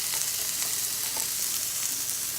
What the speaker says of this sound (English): Starts sizzling, so that's good.